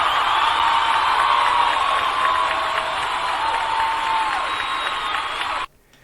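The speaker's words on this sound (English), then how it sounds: "can we give the Supreme Court a round of applause?" Sustained crowd applause with cheering and whoops, dense and steady throughout, cutting off abruptly near the end.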